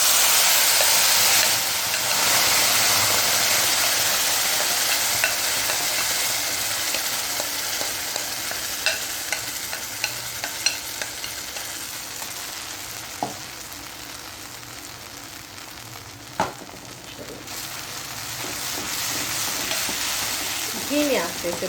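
Tamarind pulp roasting over a low flame in a pan with light-brown cumin, giving a steady, fairly loud sizzle and hiss with scattered small pops and crackles, briefly softening midway before building again.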